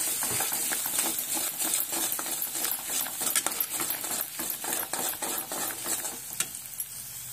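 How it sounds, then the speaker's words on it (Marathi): Eggs stirred into an oiled pan for anda bhurji, Indian street-food style, with a steady scraping and clinking of a metal spatula against the pan over a continuous frying sizzle, close and fairly loud, with no one speaking. "आता ही अंडी सगळी ह्यात फेटून घेऊ व्यवस्थित"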